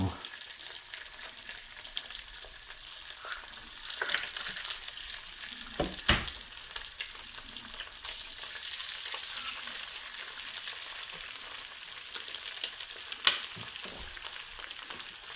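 Eggs sizzle and crackle steadily in a hot pan with butter or oil, a constant frying hiss with occasional sharper pops and scrapes.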